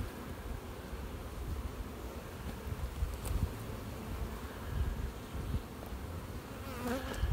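A steady, dense buzz of many honeybees at an open hive close by, continuous and even, with no voices.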